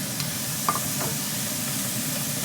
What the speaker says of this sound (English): The pan is hot, and I'm putting in the 1 pound of beef in here.